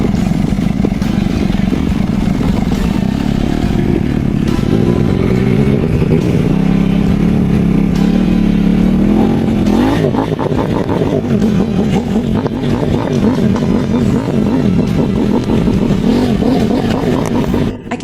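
A flooded motorcycle engine, waterlogged after a deep-water crossing at the Dongchuan mudslide race, revs repeatedly to burn off oil, a loud, close, rough roar that rises and falls with clattering throughout.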